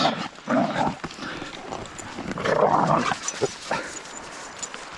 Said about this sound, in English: More like the sound of dogs at the moment